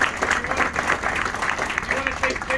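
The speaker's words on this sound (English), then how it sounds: "One last round of applause." An audience claps in a steady burst of applause at a Kirtland signing ceremony, broadband and continuous across the short span, with crowd noise mixed in.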